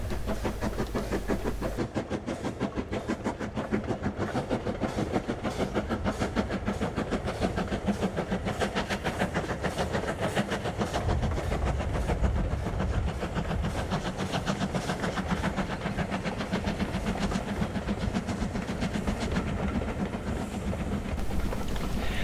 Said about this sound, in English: The 8F meanwhile makes his way northwards from Irwell Vale, as seen here heading up the valley past the sewage works.